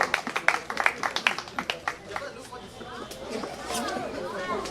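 An audience at a cultural day prize-giving claps for a class winner, a burst of sharp, uneven handclaps that fades into chatter and murmuring voices.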